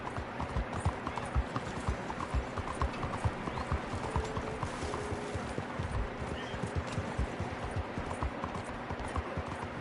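Horse hooves galloping in Red Dead Redemption 2, a steady clip-clop rhythm kept up throughout, fairly loud and close over a busy game soundscape.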